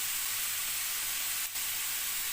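Green chillies and curry leaves sautéing in a pan for egg roast, giving a steady, close frying hiss with one brief soft knock from stirring.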